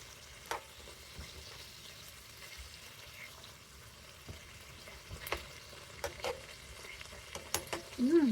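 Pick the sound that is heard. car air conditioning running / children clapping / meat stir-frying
meat stir-frying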